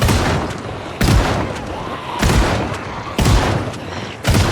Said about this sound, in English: I do like that you can now shotgun zombies on the floor.